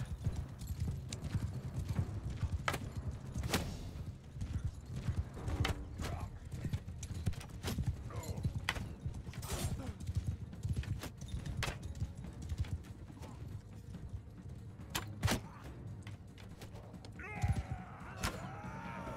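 Many horses gallop in a cavalry charge during a Mount & Blade: Bannerlord battle, a dense rolling clip-clop of hooves with occasional whinnies and clashes, steady and close throughout.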